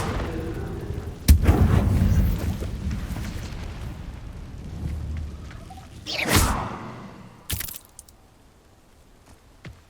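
Incendio fire spell cast in the Hogwarts Legacy game, loud sudden blasts with whooshing bursts of flame, a few separate strikes with quieter rumbling between them.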